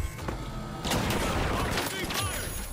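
An automated turret in The Finals video game fires in a loud, dense stream of rapid gunshots. It starts after a short lead-in and continues steadily beneath game noise and voices.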